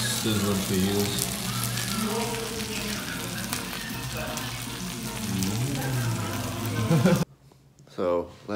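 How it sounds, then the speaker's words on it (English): Fajitas sizzle and spatter loudly and steadily in a hot pan, with someone speaking over the frying noise before it cuts off abruptly. "Real sizzling fajitas."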